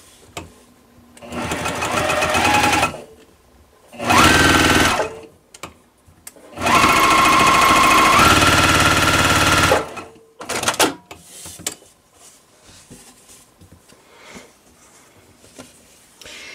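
A sewing machine stitches quilt block pieces in several separate runs of rapid, even whirring, some short and one long, close up, with quiet handling noises between bursts.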